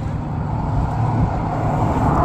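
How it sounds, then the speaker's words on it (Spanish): Steady rush of cars speeding along a road, a continuous loud roar of traffic with low rumble building slightly toward the end, no voices. "Pasan recio los carros, ¿eh?"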